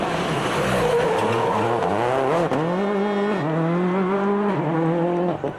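Grönholm's rally car on a 2003 Rallye Monte Carlo stage: a loud, close engine rises and falls through repeated gear changes, with brief lifts between hard bursts of acceleration and no talk.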